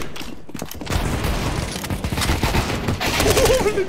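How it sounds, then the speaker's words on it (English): Dense, sustained video game gunfire rattles through nearly four seconds: overlapping rapid shots and bursts, loud and close, building toward the end with little pause. "Hey, what are they shooting at?"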